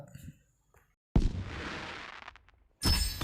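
AK47 gunfire in the Free Fire video game comes as two short, loud bursts of rapid shots separated by a quiet gap, with a fading rumble after the first burst.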